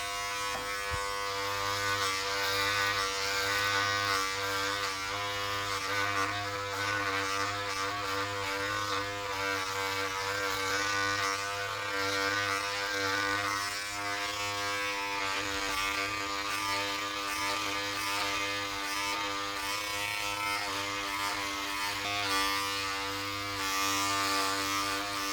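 A Braun Series 7 body groomer trims body hair with a steady, loud electric buzz that runs without a break, close up and alone, with no talking.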